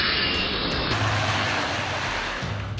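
A firefighting aircraft flies overhead during a wildfire on a mountain, its engine a loud, steady, broad roar for about three seconds.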